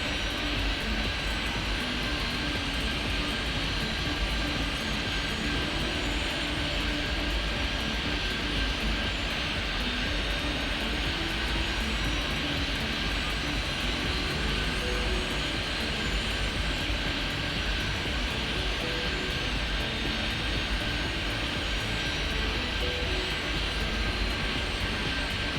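Aircraft engines hum steadily during pushback in a flight game, a continuous loud whine and roar with a sustained tone, holding constant with no speech.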